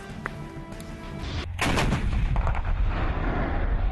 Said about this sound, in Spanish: en la frontera se escuchan los disparos de esta guerra